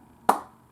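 One sharp hand clap rings out in a quiet room, crisp and close, and fades quickly.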